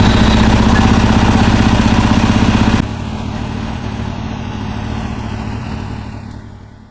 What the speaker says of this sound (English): we're gonna need to turn the bike on, let it warm back up